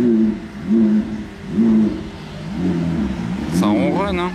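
A supercar engine idles with a low, steady rumble that swells and dips rhythmically in Monaco, then a voice speaks briefly over it near the end.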